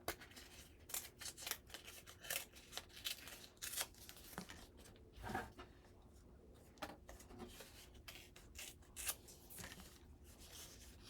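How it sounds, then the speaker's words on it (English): Paper packaging is torn by hand for a Valentine's mini album, making quick, crisp, close rips and crinkles in uneven bursts with short pauses between them. "Just rip a little bit more."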